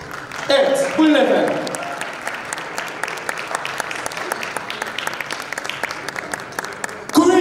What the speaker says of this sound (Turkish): Kuvvetli alkışlar Arif Şentürk'e gelsin